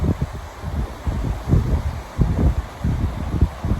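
Wind buffets the microphone outdoors in loud, uneven low gusts and rumbles that rise and fall throughout, with no voice heard.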